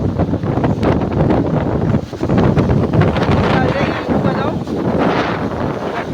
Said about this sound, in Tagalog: Kinikusog ka hangin oh